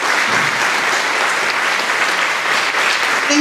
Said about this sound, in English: So please give Diana a round of applause